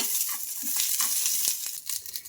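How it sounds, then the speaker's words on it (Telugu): Peanuts and mint leaves fry together in a pan, a dense close hiss of sizzling oil with soft stirring scrapes and crackles throughout, no voices. "ఇంకా ఈ పల్లీలతో పాటు పుదీనాను కూడా బాగా ఫ్రై చేసుకోవాలి."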